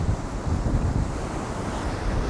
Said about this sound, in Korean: 지금 파도가 엄청나게 요란하게 지금 거칠게 매몰차게 끊임없이 몰아치는데